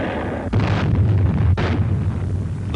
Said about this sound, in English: Mount Suribachi, which dominated the island, was a prime target for Navy gunners.